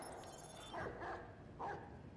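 Dogs barking in the video game Watch Dogs 2, several short woofs in a quick rhythm over steady game background noise, with no talking.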